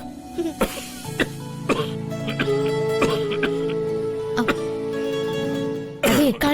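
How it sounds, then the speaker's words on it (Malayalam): A woman coughs repeatedly in a domestic TV drama scene: sharp, close bursts come in an irregular series over soft background music, with a throaty sound at the end. "കളിച്ചും ചിരിച്ചും ഇപ്പൊ ചുമ വരെയൊക്കെ ആയോ?"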